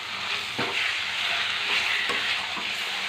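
Chicken pieces fry loudly in hot oil with onions in a pot for biryani, giving a steady close sizzle. Spoon stirs scrape through it about three times.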